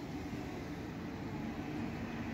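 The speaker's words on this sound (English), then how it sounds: "So this is the train we ended up getting back." A passenger train near Pilning station rumbles steadily, a low continuous rolling drone heard from close by, without pauses or voices.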